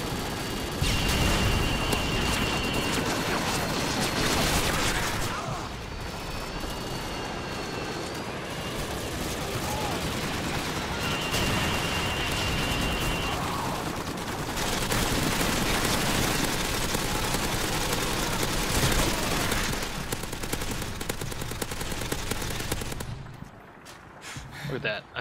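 Gunfire in the Modern Warfare 2 video game, dense sustained bursts of automatic fire and explosions filling the whole stretch, loud and close, with a player talking intermittently over it.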